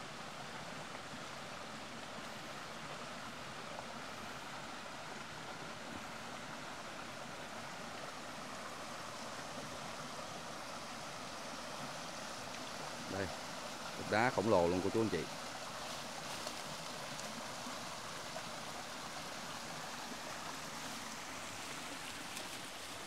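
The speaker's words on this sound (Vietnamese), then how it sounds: "Phía trong đó thì nước suối đang chảy rất là mạnh chảy ra." A mountain stream runs strongly after a flash flood and landslide, a steady broad rush of water throughout, with a brief burst of speech from a man partway through.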